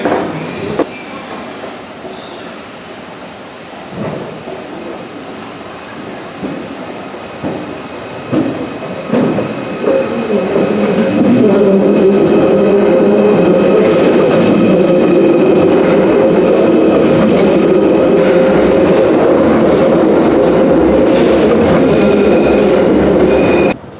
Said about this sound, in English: They are really nice trains. They've got good acceleration.